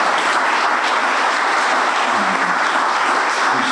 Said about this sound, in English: Big round of applause to our panelists,